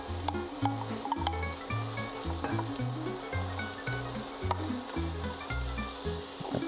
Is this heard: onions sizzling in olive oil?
yes